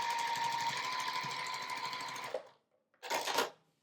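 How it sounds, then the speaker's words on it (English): A sewing machine stitches a diagonal line across quilt squares for a watermelon wall hanging. It gives a close, steady, rapid mechanical hum for a couple of seconds, stops, then makes one short burst of stitching. "we're going to sew across that diagonal line"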